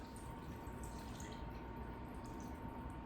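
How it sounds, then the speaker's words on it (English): Tap water pours steadily into a soup pot in a kitchen as pumpkin soup is being made, a continuous close rushing splash with no talk. "And then I'm just going to fill this with water."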